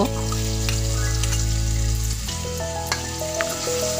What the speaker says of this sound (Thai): ตั้งหม้อใส่น้ำมันละไว้เลยเจ้า น้ำมันเริ่มหอนก็ใส่ พริกแกงที่เขาตำไว้เมื่อกี้ลงไปเลยเจ้า